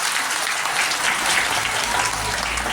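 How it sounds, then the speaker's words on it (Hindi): Loud, continuous applause from an audience welcoming a guest at a school function, a thick wash of many hands clapping without letup for the whole stretch. "इनके जोरदार तालियों से इनका स्वागत करें।"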